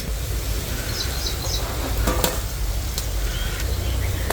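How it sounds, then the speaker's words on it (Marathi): Wheat flour and jaggery gulgule fritters fry in hot oil, a dense, steady sizzle and bubbling close up, with faint clinks of stirring on top. "आता लय तापलंय तेल तर पटापटा होते तर."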